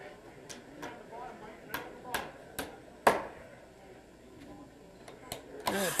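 Hammers strike wood in irregular, sharp blows as crews frame a house during a builders' framing competition. Roughly a dozen knocks sound at varying loudness over a busy background of voices and site noise.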